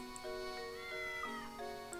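A cat meows several times in a row in the video game Professor Layton and the Curious Village: faint, drawn-out, rising and falling cries over a quiet electronic background with a couple of soft chimes.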